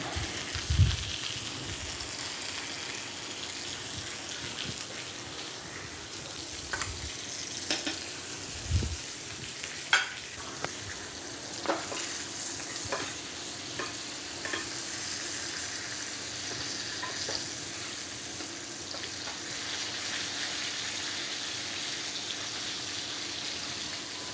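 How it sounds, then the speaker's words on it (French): Rack of lamb frying in olive oil while being basted, a continuous bubbling sizzle with repeated spoon clinks and splashes of oil over the meat, moderately close and steady. "Il ne faut pas hésiter à arroser la viande, le carré d'agneau"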